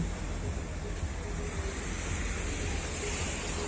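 Ocean waves breaking on Anjuna beach in Goa, a continuous roaring wash of surf mixed with wind buffeting the microphone, loud and close with no clear pauses between breakers.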